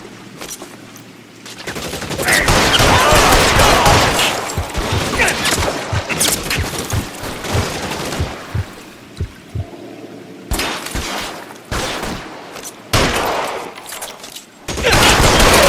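Rapid bursts of gunfire in the crime video game L.A. Noire, loud and dense, with repeated shots and crashes that swell into sustained fusillades, break off briefly, then resume in sharp clusters.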